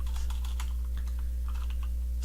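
Rapid, uneven clicks of keys on a computer keyboard while code is typed, close up over a steady low electrical hum, with short bursts and pauses and no talking.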